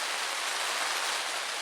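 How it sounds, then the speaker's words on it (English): Heavy rain pours down outside, a dense, steady hiss of countless drops striking surfaces with no break or voices. "as you can hear, it's raining pretty good"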